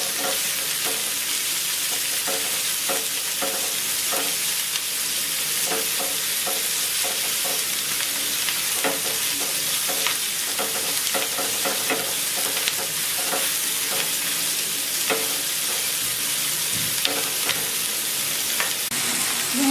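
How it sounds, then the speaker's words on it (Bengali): Onion, tomato and green chili fry in a pan over low heat for chola bhuna, with a constant close sizzle broken by repeated scraping stirs, and no voices. "পেঁয়াজটা টমেটোটা ভালো মতো ভাজা হয়ে গেছে।"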